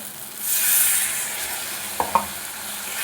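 Spice masala with chili powder, green chilies and a little water frying in a pan for fish curry, a steady close sizzle with two brief spatula scrapes, no one speaking.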